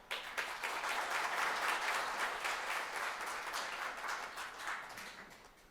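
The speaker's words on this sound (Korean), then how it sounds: "한 분 한 분 소개해 드릴 때마다 큰 박수 부탁드리겠습니다" Audience applause at a foundation's annual report meeting as guests are introduced one by one, a steady broadband clatter of many hands sustained for several seconds and slowly tapering toward the end.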